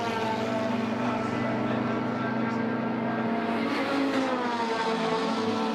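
A race car at the Riga circuit roars past during a circuit racing championship, its engine a loud, steady, close drone that holds throughout with a slight shift in pitch partway through.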